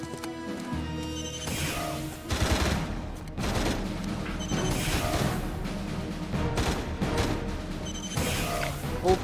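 Dense gunfire in a firefight around a building crackles continuously, with bursts and sharp shots layered over rumbling noise and scattered distant shouts, staying loud throughout.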